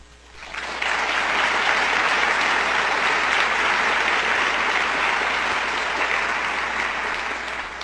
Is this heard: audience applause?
yes